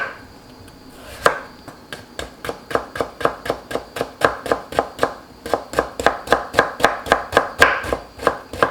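A knife julienning radish on a cutting board for pear cold noodles: a brisk, steady run of about two dozen crisp chops at close range, with no talking.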